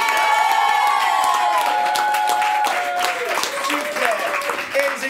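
An improv theatre audience bursts into loud applause and cheering, with whoops and shouts riding over dense clapping and voices calling out throughout.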